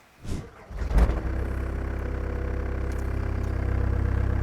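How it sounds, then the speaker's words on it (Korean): A 2016 Hyundai HX60MT excavator's diesel engine starts with a couple of clunks, then settles into a steady, low, rumbling idle close by, running smoothly. "시동 걸었을 때 엔진 소리는 아주 좋습니다 부드럽게 잘 작동이 되고 있습니다"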